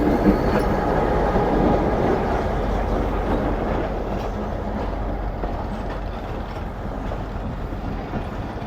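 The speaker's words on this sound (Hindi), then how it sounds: "4809 के साथ आ रही है ट्रेन।" A train arrives at a railway station in Pakistan, a loud, steady rumble of rolling wagons with faint rhythmic wheel clatter, continuous and close, with no talking heard.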